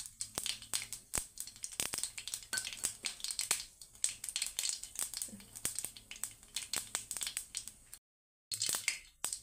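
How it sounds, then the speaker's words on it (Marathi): Mustard seeds splutter and pop in hot oil for a khaman dhokla tempering, a dense irregular crackle of sharp close snaps and sizzles throughout, briefly dropping out near the end. "याच्यामध्ये अर्धा चमचा मोहरी, आता मोहरी इथे आपल्याला छान अशी तेलामध्ये फुलू द्यायची आहे"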